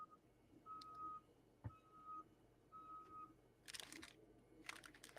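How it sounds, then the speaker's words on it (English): Vehicle backup alarm beeping three times in a steady rhythm at a distance, each tone about half a second, over outdoor background noise with a thud and some crunching later. "I hear a backup alarm."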